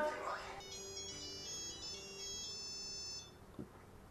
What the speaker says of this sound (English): Dude, silence your phone.